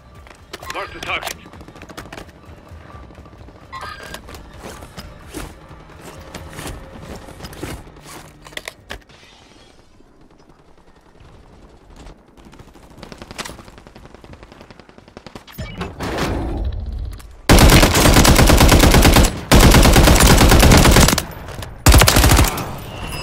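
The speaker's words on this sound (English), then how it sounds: "So, taking fire!" Automatic gunfire in a Call of Duty match comes first as scattered bursts under talk, then after a lull as loud, sustained machine-gun fire in long, dense volleys near the end.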